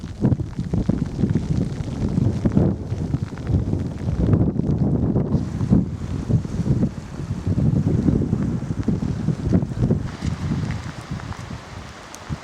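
Strong wind buffets across open, barren moorland on the way to Kinlochleven, a loud continuous rumbling roar with gusty surges and microphone buffeting, no voices.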